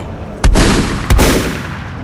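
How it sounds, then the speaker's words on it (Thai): Two sharp, loud gunshots from a pistol and a shotgun ring out about half a second apart, each followed by a rolling echo that fades slowly. "มีเสียงปืนสั้น ระเบิดขึ้นหลายนัด พร้อมกันกับเสียงปืนลูกซอง"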